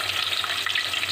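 Onion sizzling in hot oil for egg pulusu gives a brief, loud, steady crackle and hiss close by.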